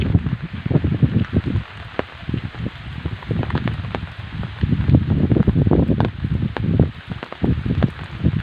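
Heavy rain pours down in a dense, steady patter with scattered sharper drops and splashes close by, continuing throughout without any speech.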